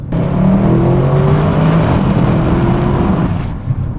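A 2023 Audi RS6 with the optional sport exhaust, its engine droning steadily and fairly loud with a smooth, even tone, heard from inside the car for a few seconds.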